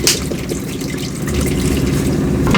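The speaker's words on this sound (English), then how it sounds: "I'm going to go ahead and add the whole bottle of water." Bottled water poured into an emptied tomato can to rinse it, a steady splashing pour that grows fuller and louder toward the end, with no talking.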